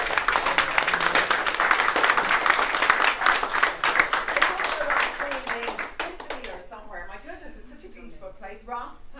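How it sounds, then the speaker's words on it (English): An audience at an art exhibition breaks into brisk, close clapping that builds loudly, then thins out as a voice begins talking over the tail end. "let's give them a round of applause for the art"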